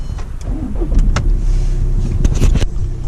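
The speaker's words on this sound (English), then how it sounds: "So let me start the car up so you can see, obviously the engine's obviously working." Audi Q3 2.0 TDI Quattro diesel starting up close by: a few clicks and the starter cranking, then the engine catches and settles into a steady idle rumble.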